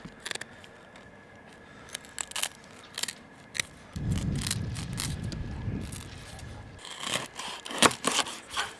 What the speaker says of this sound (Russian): Теперь ножницами отрежем